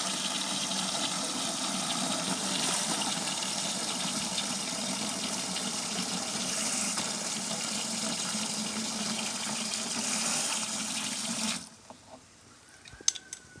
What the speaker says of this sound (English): you add in the 2 liters of water to dilute the concentration of acid